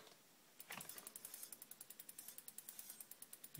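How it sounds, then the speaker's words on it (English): A bicycle's rear disc brake rubs as the lifted wheel is spun, giving a steady train of quick, evenly spaced ticking scrapes that start after a brief quiet moment and continue close and clear. "the problem I've got really is this rubbing of the disc brake at the back"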